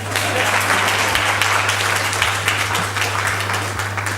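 Audience applause for the Director of the Gender Mainstreaming Office, University of Ibadan, at a gender equality conference: steady dense clapping from a large hall crowd, continuous and fairly loud, with a constant low electrical hum beneath.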